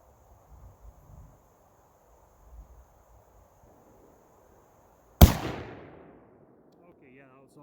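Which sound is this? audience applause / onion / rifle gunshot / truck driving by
rifle gunshot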